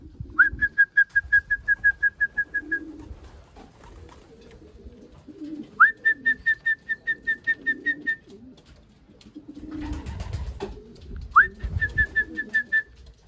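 Young racing pigeons arriving home from their first young-bird race out of Duiven, Germany, give three bursts of rapid, repeated whistling coos, each a steady string of notes, with quiet gaps between them.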